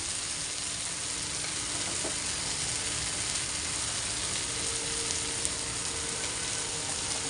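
Masala sizzles steadily in a pan of egg bhurji, a dense, even frying hiss throughout, close and unbroken, with a faint clink or two.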